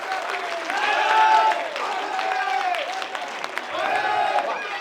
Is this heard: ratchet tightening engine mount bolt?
no